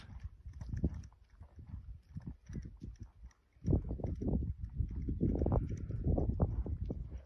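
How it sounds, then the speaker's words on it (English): A horse moves through warm-up manoeuvres, its hooves making uneven, rhythmic clip-clop thuds, close and soft at first, then denser and louder after a brief pause. "This horse is a pretty cool horse."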